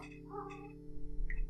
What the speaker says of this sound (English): I do hope that the mic is gonna pick up the kitten sounds